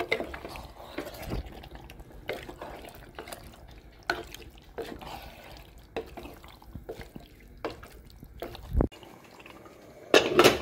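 Water poured into beef in a pot for Kerala-style beef varattiyathu, heard as an uneven splashing and trickling pour with intermittent clatter of a pan, ending in a sharper clink near the end.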